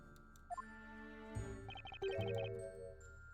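A chiming bell sounds in the Professor Layton vs Phoenix Wright video game, a few soft tinkling tones followed by a resonant ringing chime and sustained ringing notes, faint and alone.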